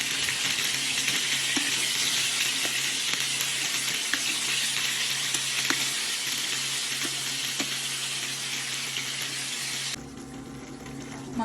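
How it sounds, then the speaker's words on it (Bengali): Baim fish pieces, already fried, hit a hot pan and sizzle loudly and steadily, with a few clinks from the utensils. The frying noise drops suddenly near the end. "মাছ ভাজি মাংসগুলো আমি দিয়ে দিলাম।"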